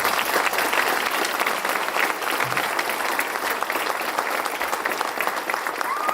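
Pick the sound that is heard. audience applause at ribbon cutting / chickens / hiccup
audience applause at ribbon cutting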